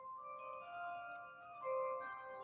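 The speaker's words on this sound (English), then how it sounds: "Chimes came in perfectly right there." Bright chimes ring out in a short sequence of sustained bell-like tones, clear and fairly close, alone without talking.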